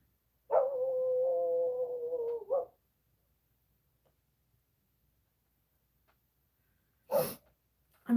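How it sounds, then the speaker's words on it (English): A single long, drawn-out bark or howl from a dog off in the woods beyond a driveway, fairly faint and distant, followed after a quiet pause by a short sharp yelp. "I hear somebody else barking."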